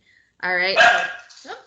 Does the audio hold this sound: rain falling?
no